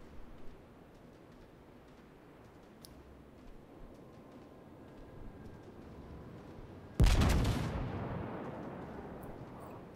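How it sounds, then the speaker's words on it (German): A warship's turret gun fires in the World of Warships naval battle game, aboard the French battleship Dunkerque: after a quiet ticking background, one sudden loud boom at about seven seconds rolls off into a fading rumble. "da hat er nur mal mit einem Turm geschossen"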